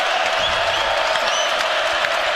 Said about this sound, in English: the crowd picking up the noise